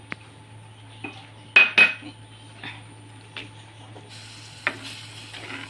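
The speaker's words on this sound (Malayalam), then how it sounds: "നന്നായിട്ട് ഇളക്കി യോജിപ്പിച്ച് കൊടുക്കാം." A spoon stirs river prawn curry, made without chili, in a metal pot, giving scattered clinks and scrapes against the pot with a couple of louder knocks near the start, over a low steady hum.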